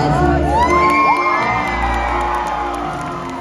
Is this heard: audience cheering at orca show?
yes